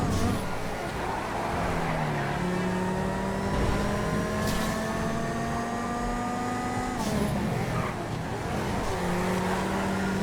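Engine of a hard-to-control car in the video game GTA V races steadily, its rising and falling rev tones sustained and loud throughout, with a brief shift and drop near the end; no talk over it.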